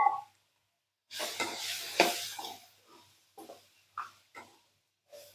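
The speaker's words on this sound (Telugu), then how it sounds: "ఇప్పుడు దీంట్లో కొబ్బరి ముక్కలు వేస్తున్నాను." Coconut pieces tipped into a hot pan burst into a loud sizzle that fades over a couple of seconds, followed by a few short scraping stirs.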